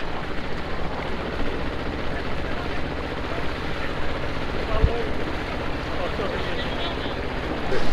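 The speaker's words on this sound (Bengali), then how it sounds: "যে মোটর লাগানো নৌকাটার সাথে আমাদের নৌকাটা জুড়ে দেওয়া হলো, দড়ি দিয়ে টান দিয়ে চলে যাচ্ছে একসাথে।" A motorboat on the Maithon Dam reservoir tows a rowboat by rope, its engine a steady, loud drone with wind and water noise and voices underneath.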